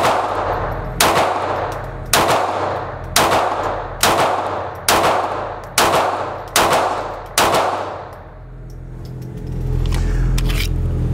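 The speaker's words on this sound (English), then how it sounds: "So let's put some rounds down range and let's find out." Rapid shots from a Colt/Walther Government Model 1911 pistol chambered in .22lr fired at a range, about nine sharp reports in a steady rhythm, loud and close, followed by a quieter tail.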